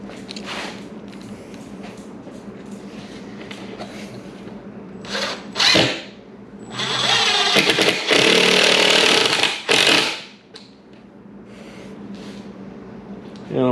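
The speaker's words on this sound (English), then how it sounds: "That's the whole reason you drill pilot holes, just to make sure you don't crack the wood apart." A power drill whirs through wood in several bursts, the motor rising and falling between pauses, with a couple of sharp clicks and quiet stretches.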